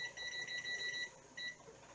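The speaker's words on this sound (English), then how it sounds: "we'll set our timer at 10 minutes" Kitchen timer being set to ten minutes while pressure canning meatballs, giving repeated high electronic beeps in two bursts, close and clear with no talking.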